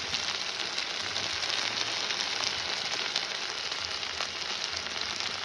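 Eggplant and onion fry in a pan with a steady, close sizzle and crackle that runs unbroken throughout, no voices over it.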